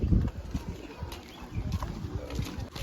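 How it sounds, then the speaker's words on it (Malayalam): Horse hooves clip-clop in uneven, muffled steps at a busy horse-riding spot in Ooty, heard at moderate distance over faint outdoor background noise. "ഇവിടെയും കുതിര സവാരി ഉണ്ട് കേട്ടോ."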